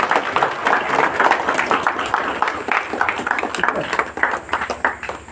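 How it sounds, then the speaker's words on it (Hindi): Crowd applause at a church inauguration and ribbon-cutting ceremony, a steady dense patter of many hands clapping throughout, with faint voices underneath. "सो मां जोर से करें ताली मार दो"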